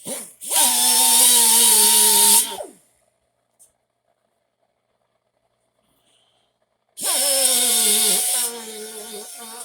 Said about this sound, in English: He took this thing here on an air Dremel to kind of grind out that hole a little bit more.